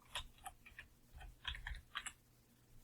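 Keys tapped on a computer keyboard while entering text in Mathcad, a short run of quick, light clicks in small irregular bursts, close and faint with no talking.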